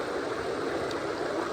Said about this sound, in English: because of the noise of the river